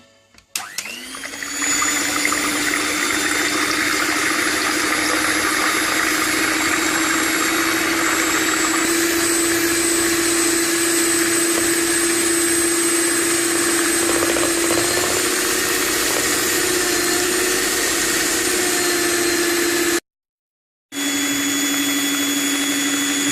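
Electric beater whisking black forest cake batter, a loud steady motor whine holding nearly constant throughout, with a brief cut-out near the end before it resumes.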